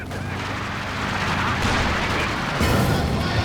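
A heavy mortar fires during a Company of Heroes 2 battle, with deep booming shots and artillery rumble rolling over a busy wartime backdrop. The impacts grow louder and denser toward the end.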